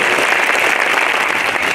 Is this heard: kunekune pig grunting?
no